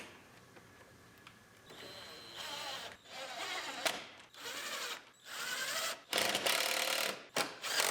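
Screws being driven into a closeout panel on a 2018 Ford Explorer Limited AWD under collision rebuild, heard as several close, loud bursts of a power driver whirring and ratcheting, separated by short pauses.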